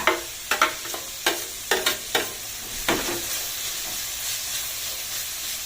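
Tomatoes dropped into a hot pan for potato masala, a run of sharp stirring clacks in the first three seconds, then a softer continuous sizzle and hiss settling in.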